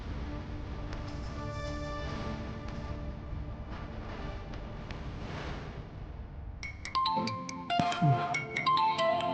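A phone call ringing tone in a Tamil TV serial scene, heard as repeated electronic ringing tones over a noisy background, becoming clearer and more melodic toward the end, with no talk.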